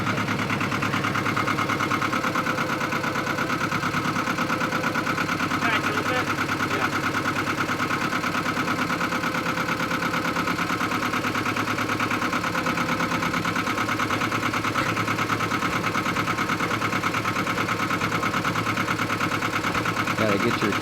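Tractor engine idling and running steadily on a farm while a tire bead is broken for a 2020 Jeep Gladiator, a constant mid-pitched diesel drone throughout with people talking faintly underneath.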